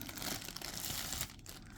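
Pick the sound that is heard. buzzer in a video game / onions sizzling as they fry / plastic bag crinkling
plastic bag crinkling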